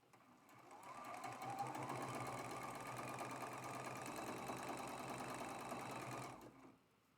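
Sewing machine chain-piecing quilt block rows, one steady continuous run of motor whir and needle clatter lasting about five seconds before stopping, close and alone.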